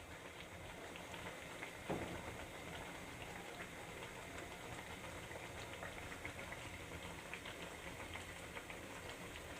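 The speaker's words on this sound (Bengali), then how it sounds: "আমি এক এক করে সব বেগুনের চপগুলো এবার ভেজে নেব।" Eggplant fritters (beguni) fry in hot oil with a steady, dense sizzle and crackle that runs evenly throughout at moderate level, with no talking.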